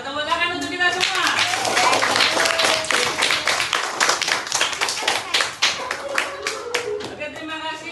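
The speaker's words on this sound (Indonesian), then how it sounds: "Tepuk tangan untuk kita semua" A classroom of children bursts into applause together, with dense, lively clapping running near and loud under a teacher's voice, which speaks at the start and end.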